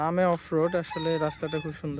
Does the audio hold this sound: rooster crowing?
yes